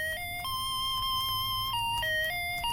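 A musical pocket calculator plays a thin electronic beeping melody, steady tones stepping up and down in pitch in quick succession, playing continuously over a low background hum.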